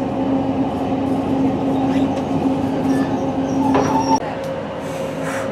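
A train stands at Llandrindod station on the Heart of Wales line, with a steady close rumble and hum from the railcar and a thin tonal whine, then a sudden clunk before the noise settles lower.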